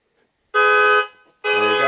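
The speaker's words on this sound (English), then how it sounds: "it's probably going to tell the car that something's changed electrically and it'll probably set the alarm off" A Tesla Model 3 Highland alarm blares in two loud, harsh horn-like bursts separated by a short gap, close and piercing with no talking.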